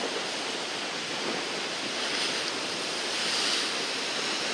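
Sea waves wash onto a rocky shore of volcanic stone in Kyrenia, Northern Cyprus, a continuous broad rushing surf with slight wind noise and no voices.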